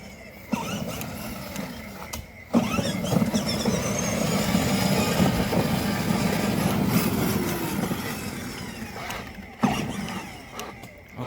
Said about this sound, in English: now I'm driving the car like an RC car